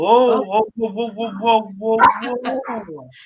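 Several dogs bark and yip in quick repeated bursts indoors, close and loud, reacting to another dog outside, with some whimpering mixed into the chain of barks.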